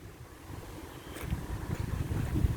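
Wind buffets the microphone on a riverside walk near fish restaurants in Liopetri Potamos, Cyprus, a low rumbling gust that swells and grows stronger toward the end.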